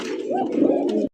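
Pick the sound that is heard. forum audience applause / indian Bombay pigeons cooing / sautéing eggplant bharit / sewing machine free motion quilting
indian Bombay pigeons cooing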